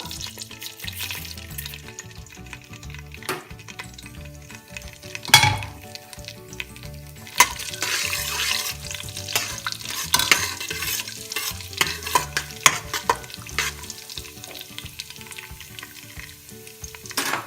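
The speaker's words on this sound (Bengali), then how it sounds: "পেঁয়াজ দেওয়ার আগে আমি এর ভিতরে একটু জিরা ফোড়ন দেবো" Cumin seeds crackle in hot oil for tempering a mutton kalia, a continuous close sizzle with scattered sharp pops and bursts of stirring and scraping over a long stretch.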